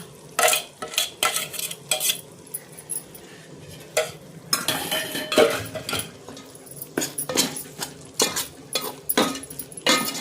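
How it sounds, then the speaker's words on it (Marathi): Ground masala paste sautéing in oil for a mutton dish, with a spoon repeatedly scraping and clinking against the pan in irregular bursts over a low background sizzle, close and fairly loud. "ते वाटण आता चांगलं ह्याच्यामध्ये तेल सुटेपर्यंत चांगलं परतून घेऊया"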